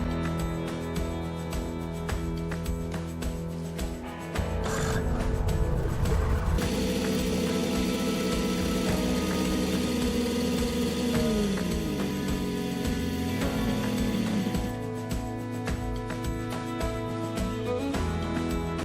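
Small engine running steadily with its fuel valve shut off, a continuous close drone that shifts in pitch partway through as it burns the fuel dry, with no talk.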